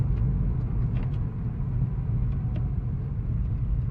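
Inside a moving car, a steady low engine and road rumble drones without a break throughout, close and even, with no talking.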